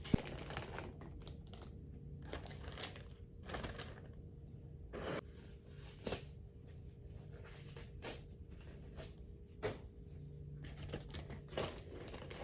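A clean plastic Ziploc bag is handled for a turkey brine, giving repeated soft crinkles and rustles, close and fairly quiet, over a low steady background hum.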